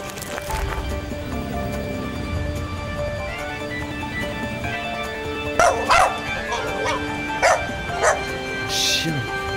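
A Shiba Inu dog gives several short, sharp barks and yips partway through, mid-distance, while people talk over a steady background.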